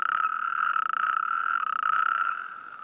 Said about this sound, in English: that allows the natterjack toads, among others, to start singing